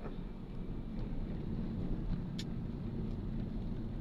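Road traffic heard from inside a car during a ride in San Lorenzo, a steady low rumble of engine and road noise with faint wind, fairly constant and without talk.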